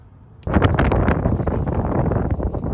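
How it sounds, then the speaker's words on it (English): Harsh wind buffeting a microphone kicks in abruptly after a brief quiet moment, then roars steadily and loudly with gusty fluctuations. "it's pretty windy here, so hopefully you can hear with no problems"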